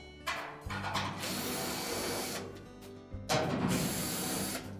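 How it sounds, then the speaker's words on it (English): A power driver whirs in two bursts, removing 5/16 hex head screws from the back panel of a Whirlpool dryer with a ratcheting mechanical buzz, close by and fairly loud, with a short pause between. "we're going to start by removing the screws around that back panel."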